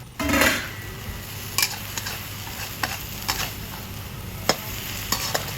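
Egg and thin rice noodles fry together for pad see ew, a steady close sizzle with sharp, irregular spatula taps against the pan.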